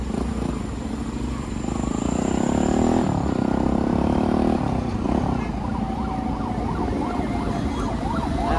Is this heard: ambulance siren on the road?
yes